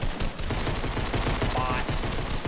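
Rapid gunshots in Fortnite, a fast rhythmic burst of repeated shots that fills the whole moment, loud and close, with no talking over it.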